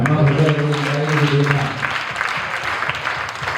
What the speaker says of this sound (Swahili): Haya, tumshangilie Yesu kwa makofi.